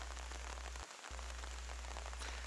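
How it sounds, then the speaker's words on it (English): Steady rain falls at dusk in the Congo, a dense even hiss of drops hitting surfaces that continues with one brief gap, with no voices. "that is rain that you hear"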